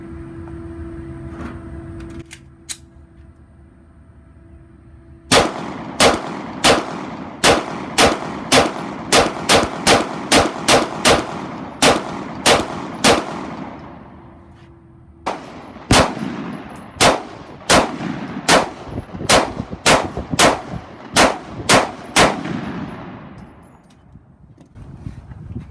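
A Hudson H9 pistol fires Federal HST 124 grain ammunition outdoors, two strings of about a dozen sharp, loud shots each in fairly quick rhythm, separated by a short pause, with ringing echoes after each report.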